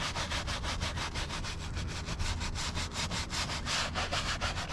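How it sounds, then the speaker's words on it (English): A stiff brush scrubs a leather car seat treated with CarPro leather cleaner, giving a steady, close, rhythmic rasping stroke after stroke with no pauses. "people get scared when I brush over the seams here"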